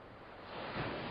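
Rough Atlantic waves wash around a sailing ship at sea, a faint, steady broadband rush of surf and wind that swells slightly toward the end.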